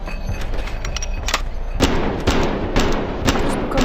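Pistol shots in the VR shooter Hard Bullet, a run of four or five sharp, loud reports at roughly half-second intervals over a continuous game background, with no talking.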